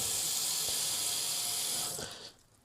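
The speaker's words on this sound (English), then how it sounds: "If you get another pan, fill it up with water and put it on the tray below" Water runs steadily from a tap into a baking pan, a loud even splashing rush that tapers off and stops near the end as the flow is shut.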